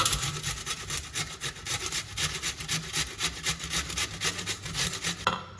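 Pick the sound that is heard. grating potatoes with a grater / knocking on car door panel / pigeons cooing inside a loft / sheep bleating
grating potatoes with a grater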